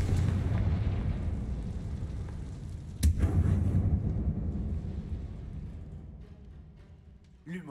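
Confringo spell blasts in Hogwarts Legacy: a loud booming explosion rumbles and fades, then a second sharp blast bursts at once and decays slowly, with a small pop at the end.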